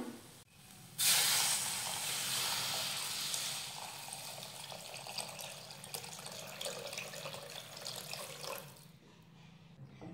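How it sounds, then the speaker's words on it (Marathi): Water pours steadily into a pot of spiced vegetable curry for several seconds, a loud continuous splashing hiss that starts abruptly and fades near the end. "आता यामध्ये घालूयात पाणी."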